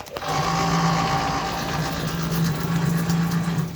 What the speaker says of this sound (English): this is a hone here that I made